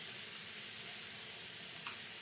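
Steak and peppers sautéing over high heat for a pepper steak stir-fry, a steady, soft, even sizzle with no talking and a faint clink near the end.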